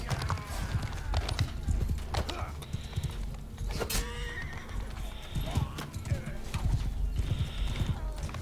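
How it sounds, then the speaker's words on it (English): Many cavalry hooves clatter in a rapid, continuous gallop with horses neighing over the din in the video game Mount & Blade II: Bannerlord, while a voice talks underneath. "That's a lot of cavalry coming at me."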